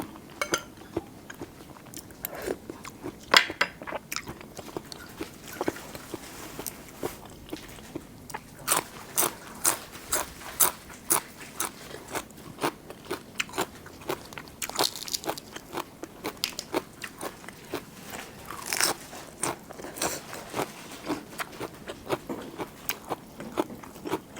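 Close, crisp crunching and chewing of pounded fresh shrimp with field morning glory shoots, a rapid steady run of bites and crackles that carries on throughout with no talk.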